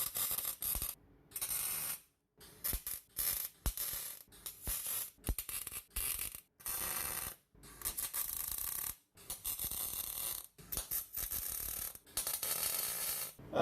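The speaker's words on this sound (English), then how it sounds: "I'm just going to tack it all in place and then pull the rubbers out of the way and then put a bit of weld on it." An exhaust system is tack welded in a workshop, with bursts of harsh crackling and buzzing welder arc separated by brief silences, repeated many times up close without speech.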